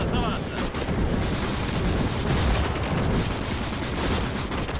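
A DShK heavy machine gun fires in the Gates of Hell game, a dense, continuous roar of rapid shots and booming battle noise without a break, loud and close.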